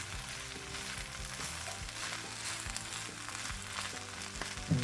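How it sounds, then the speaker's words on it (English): Eggs being stirred into fried rice in a hot pan, giving a continuous low sizzle and crackle with soft scraping of the utensil throughout, ending in a slightly louder knock. "Now what I'm going to do is basically just stir them into the rest of the rice."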